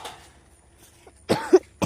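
A person on a walk past paddy fields coughs, with two or three short, harsh bursts close to the mic after a quiet stretch with a faint breath or murmur.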